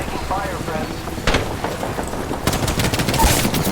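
Bursts of heavy gunfire from a powerful weapon in the Apex Legends video game, loud and close, with a sharp shot near the start and a denser volley of rapid shots toward the end, mixed with game noise and talk.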